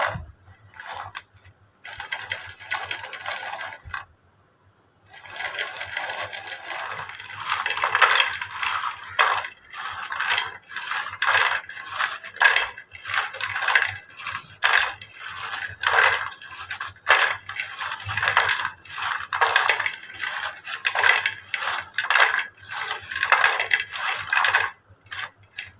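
Homemade kurkure snacks being mixed with a spice masala, dry crunchy rustling and crackling in repeated bursts, close and fairly loud, with a short pause near the start and no voices.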